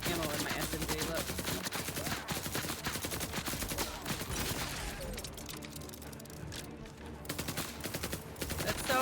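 Rapid automatic SMG fire in a video game, dense bursts of shots running steadily through the whole stretch at close range, with a little talk underneath.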